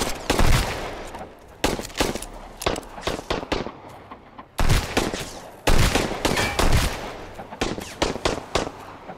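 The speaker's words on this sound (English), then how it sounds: "We're getting shot in the back." Gunfire in the survival game Sunkenland, several loud sharp bursts of shots in quick clusters separated by brief pauses, close and punchy with echoing tails.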